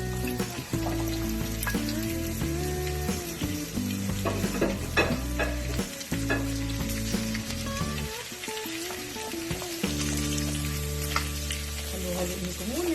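Squash pieces go into a hot pan for ginataang kalabasa and cook with a strong sizzle and stirring, with scraping clinks over the frying. Background music with a clear melody runs underneath throughout.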